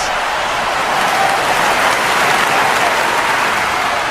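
Dense, loud crowd applause and cheering fill a WWE 2K wrestling arena, a continuous roar of clapping with no break.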